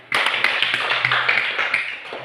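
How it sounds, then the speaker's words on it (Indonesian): Classroom applause for a student named Ina during a teacher-training lesson: a burst of many hands clapping together, steady and fairly close, lasting about two seconds. "Nah, tepuk tangan untuk Ina dulu."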